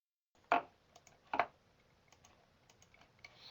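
Two crisp computer mouse clicks stand out close together, followed by a scatter of fainter ticks, in an otherwise quiet room.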